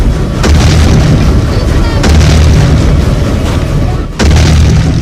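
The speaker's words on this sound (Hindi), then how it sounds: "खेल खेल में हुआ जोरदार धमाका।" Heavy booming explosive blasts with deep low rumble, one cutting off sharply before another loud burst resumes; dense and forceful throughout.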